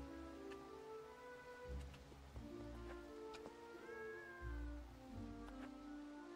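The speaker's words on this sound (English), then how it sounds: "Did I hear a cat?" A cat meows a few times in the game Biomorph, faint and somewhat distant, over low droning ambience and soft rain-like patter, with no voices.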